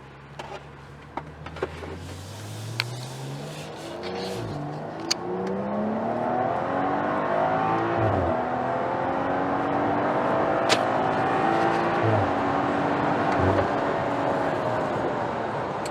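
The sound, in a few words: turbocharged SUV engine accelerating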